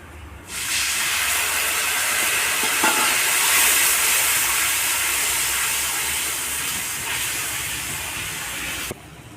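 A spice paste of garlic, green chili, tomato and cumin hits hot oil with fried onions, giving a loud, steady sizzling hiss that lasts for several seconds before stopping abruptly.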